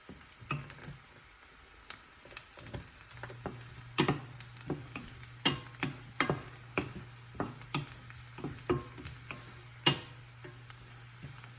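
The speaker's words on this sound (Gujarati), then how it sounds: "લસણને ધીમા તાપે શેકાવા દઈશું" Quiet sizzle of garlic frying on low heat in a pan with turmeric, broken by repeated sharp clicks and scraping taps of a utensil against the pan at an irregular pace.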